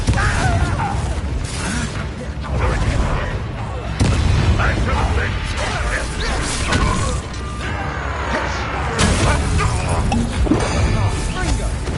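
Confringo fire spells burst over and over during a Hogwarts Legacy battle, giving loud booms and crashes among clashing effects, with character voices and combat shouts layered throughout.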